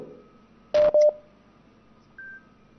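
Two short telephone keypad tones beep in quick succession, followed after a pause by a single higher electronic beep, over a faint background hum.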